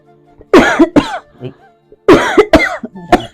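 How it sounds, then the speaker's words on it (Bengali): A person coughs hard in two close clusters of harsh, throaty bursts, with short quiet gaps between them. "খুব কাশিও হয়েছে"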